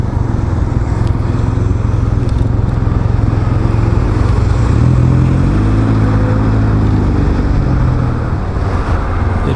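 A Can-Am Ryker Rally 900 ACE three-wheeler cruises along with a loud, constant engine drone and heavy wind rush. A slight rise in engine pitch comes midway, and no one speaks.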